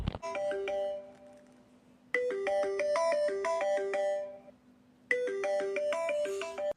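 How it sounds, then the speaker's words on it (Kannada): A mobile phone ringtone plays a bright, repeating electronic melody in three bursts, loud and close, with short pauses between them and no voices over it. "ಫೋನ್ ಬತ್ತಲ್ಲ ಯಾರ್ದು"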